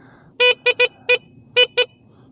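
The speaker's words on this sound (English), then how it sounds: "So if you guys wonder if the horn sounds weird, it does sound weird." Six short electronic horn beeps from a Bomb Moto B1 electric motorbike with a loose horn wire, sounding in an uneven pattern of single and paired toots, loud and close with no talking.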